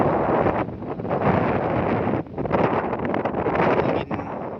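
Strong wind buffets the microphone high atop a 100-metre SUTT transmission tower, a loud continuous roar with gusty swells and brief dips, no one speaking.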